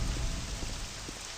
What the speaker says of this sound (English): Damn rain's gonna make it awful to see anything.